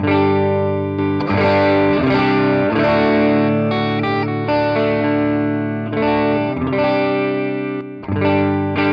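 An electric guitar plays sustained chords through a Jet Pedals LAMB overdrive, each strum ringing out with gritty, thick, slightly fuzzy tone.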